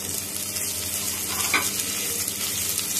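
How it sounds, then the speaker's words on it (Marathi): Onion with green chilli and curry leaves fries in a pan while being stirred, a dense, even crackling sizzle heard up close for a few seconds, with no speech. "अशा पद्धतीने त्याला आपण असा हलवत राहायचा थोडा वेळ"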